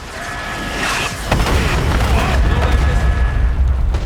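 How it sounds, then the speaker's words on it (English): Mortar strike explosions during a Call of Duty: Black Ops 6 battle, heavy rumbling booms that roll continuously and loudly, with a sharper blast partway through, and some voices mixed into the din. "Mortar strike made short work of that situation."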